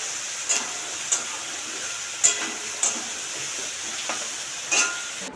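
Prawns frying in a wok, a continuous close sizzle with periodic sharper spits and pops every half second or so, steady and moderately loud with no talking.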